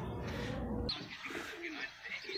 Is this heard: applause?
no